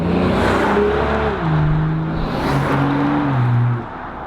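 A BMW X5 M40i engine in a sporty tune revs strongly through several rising and falling pitch sweeps like gear changes, loud and close, then eases off at the end.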